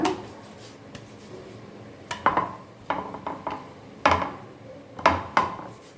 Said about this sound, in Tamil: அதெல்லாத்தையுமே நல்லா தட்டி தட்டி எடுத்துறது நல்லது பாருங்க இந்த மாதிரி தட்டி எடுத்துருங்க